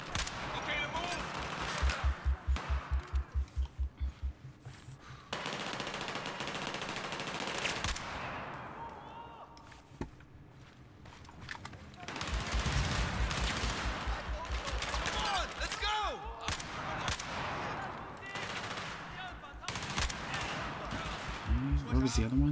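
Gunfire in the video game Battlefield 4 during a prison-break mission in the Kunlun Mountains: rapid automatic bursts and sustained loud firing that continue throughout, mixed with explosions and game noise.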